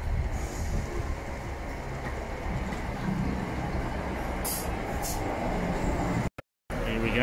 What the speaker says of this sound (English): First ever electric train.